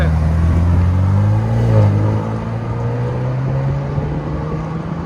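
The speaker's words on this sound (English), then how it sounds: "2025 Ford Bronco, 4-cylinder turbo with Flowmaster Super 10." A 2025 Ford Bronco with the 2.3-litre four-cylinder turbo engine and a Flowmaster Super 10 exhaust idles and revs with a steady, deep, close drone that swells briefly and then settles, with no talking over it.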